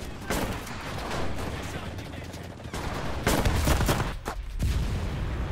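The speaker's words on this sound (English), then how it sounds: "this gun with headphones sounds much better" Gunfire in the World War II shooter game Enlisted, bursts of rapid shots and booms, close and loud, coming in clusters with brief gaps between volleys.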